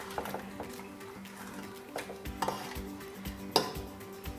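Spices for beef nihari being roasted in a pot, with soft scraping and clinking of a spoon against the metal, a few sharper knocks standing out over a low, steady background.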